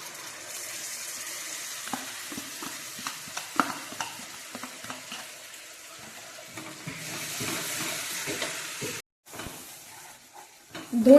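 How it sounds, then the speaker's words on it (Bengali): Coriander leaf paste fries with spices for a rohu fish curry, a continuous soft sizzle broken by frequent stirring scrapes and clinks, ending in a brief louder hiss. "পাতা পেস্টটা দেওয়ার পর খুব ভালো করে মশলাটা কষিয়ে নিতে হবে"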